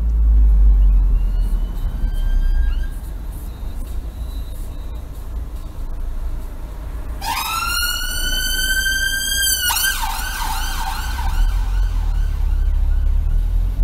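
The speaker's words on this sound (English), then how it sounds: "My viewer hears the ambulance and leaves them options." An ambulance siren wails on a road, faint and distant at first, then surging loud and close as it sweeps past with a rising wail and fading off, all over the steady low rumble of a moving car's interior.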